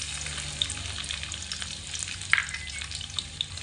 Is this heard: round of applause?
no